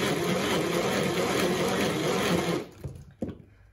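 An electric whisk beats eggs for a rolled Christmas log cake batter, a loud steady whir that cuts off near the end, followed by a few light clatters as the beaters are handled.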